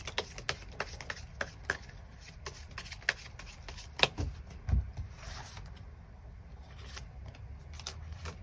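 Tarot cards are shuffled by hand in quick, crisp riffling bursts with light flicks and taps, close and fairly quiet, a few slightly louder slaps as cards are drawn.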